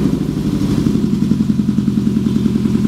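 Engine of a lowered Suzuki APV van running close by, a loud low rumble with a steady rhythmic pulsing throb that holds throughout, no voices.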